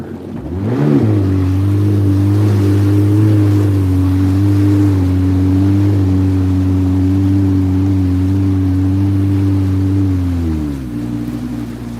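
A jet ski engine holds a steady cruising drone on open water, loud and close, with a short rev-up at the start and the pitch easing down near the end; no talking.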